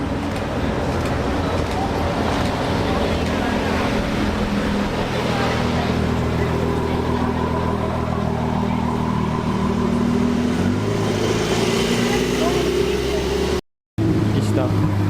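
A white GT sports car arrives on a Monaco street, its engine a steady loud rumble with a deeper low note building near the end, heard under constant talk and street noise.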